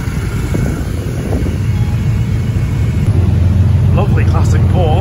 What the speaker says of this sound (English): Lovely classic Porsche.